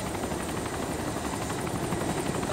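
Helicopter in the video game DayZ, its rotor beating in a steady, loud, continuous drone throughout, with no talk over it.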